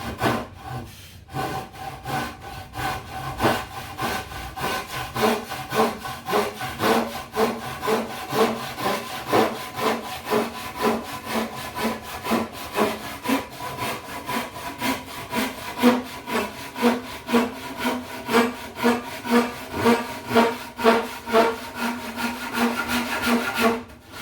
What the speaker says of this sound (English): Japanese saws are no joke. They are much sharper than I expected them to be